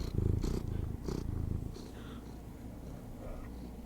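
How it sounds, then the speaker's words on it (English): A female cat held right up to a microphone purrs in loud rhythmic pulses with snorting breaths mixed in, close and dominant, then softening into quieter purring. "Listen to her purrs. She snorts when she purrs."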